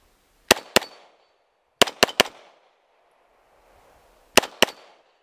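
Pistol shots from a 9mm handgun at an outdoor shooting range ring out in three bursts: two sharp cracks, then three quick ones, then two more, each loud and close with a short echoing tail and quiet gaps between.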